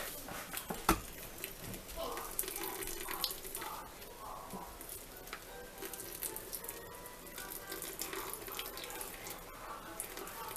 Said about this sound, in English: Strain it out as much as you can.